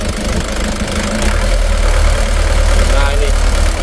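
A diesel engine on a 100 PS Ragasa (cumplung) with a replaced plunger, run through a light throttle test, rumbles loudly and steadily and swells a little partway through, under faint voices.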